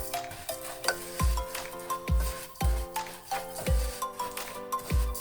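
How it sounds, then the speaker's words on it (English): Basmati rice frying and being stirred in a pan, with a quiet sizzle beneath about five evenly spaced scraping, clinking strokes of a utensil against the metal, close up and alone. "You want to go ahead and fry that as well, stirring periodically to prevent burning the rice."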